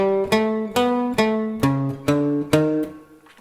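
A guitar in a beginner lesson plays a short melody of about eight plucked single notes in an even rhythm, clear and close with no talking.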